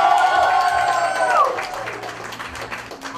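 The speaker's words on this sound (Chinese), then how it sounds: "好，麻烦掌声加尖叫好吗？" Applause and cheering from the audience at a company quarterly meeting and annual awards ceremony, a loud, dense burst of clapping mixed with voices that eases off after about a second and a half.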